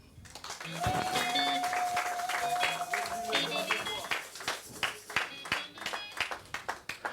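A church congregation applauds in praise, with dense clapping that fades toward uneven claps, while a held tone and a voice sound over it early on.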